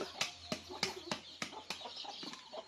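Chickens cluck close by in sharp repeated bursts, roughly evenly spaced, over a faint steady low hum.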